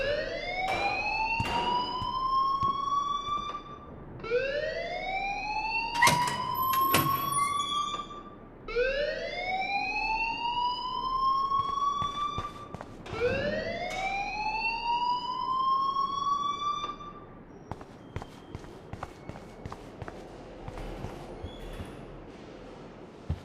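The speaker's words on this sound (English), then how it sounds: "please turn off that alarm since that's your job" A fire alarm in the video game Life is Strange, its rising electronic wail repeating about every four seconds, loud and clear with no talking, breaking into scattered clicks near the end.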